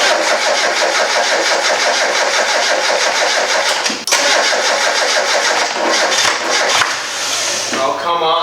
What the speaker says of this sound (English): let's see this car attempted to start now.